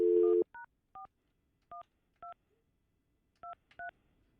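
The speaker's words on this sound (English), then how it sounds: "Let me get Wade on the phone." A phone number being keyed in on a telephone keypad during a live morning radio show: a short tone, then seven crisp touch-tone beeps in an uneven rhythm, close and clear against near silence.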